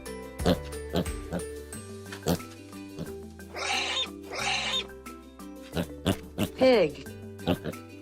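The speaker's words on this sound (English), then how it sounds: "pig," Pig oinks and grunts come in short snorting bursts on a children's farm-animal sound track, mixed with music and other brief animal calls.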